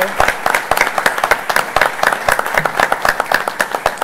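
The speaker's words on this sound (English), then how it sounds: "I'll give them a round of applause" Audience applause at a school board meeting, a steady crowd of clapping hands with distinct sharp claps standing out, sustained and fairly loud throughout, with faint voices mixed in.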